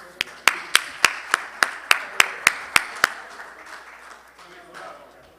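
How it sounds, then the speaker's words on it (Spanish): Sharp, evenly spaced claps ring out one by one at a Latin American business and church symposium, a dozen distinct loud hits in a steady rhythm, then trailing off into quieter scattered clapping. "nuevamente le damos un aplauso a nuestros dos panelistas"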